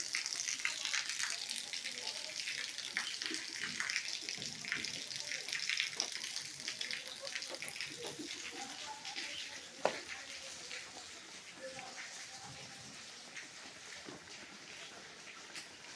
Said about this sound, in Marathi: पाऊस खूप छान चालू आहे